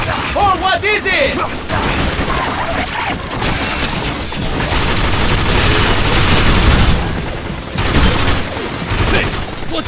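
Heavy gunfire and crashing impacts from combat in the shooter Binary Domain, loud and dense throughout with booming hits and mechanical clatter, and a voice speaking briefly over it.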